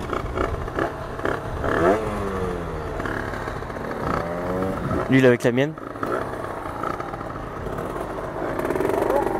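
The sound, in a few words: motorcycle riding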